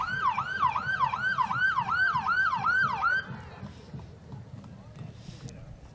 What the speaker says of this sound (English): And it seems that Sergeant Ryan Kelly is having some fun with the siren as well